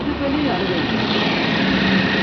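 A Renault Kwid engine with a coolant temperature sensor fault idles in a steady, continuous hum. It sits close and fairly loud, and it runs without a break for the whole stretch.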